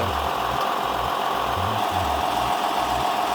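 A John Deere tractor engine runs steadily nearby, a continuous loud mechanical drone with a pulsing low-end throb, alone with no talk.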